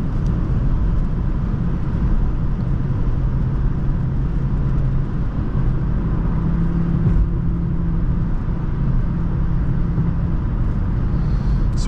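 A 2008 Infiniti M45 accelerating hard, its engine a steady, loud low rumble heard from inside the cabin, with continuous road and wind noise and a slowly rising tone.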